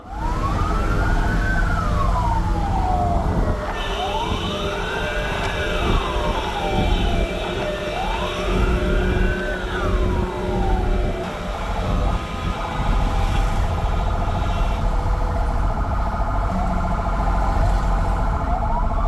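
An ambulance siren on a run to Theni Medical College wails in slow, repeating rising-and-falling sweeps, loud and close, over steady road and engine rumble with no talking.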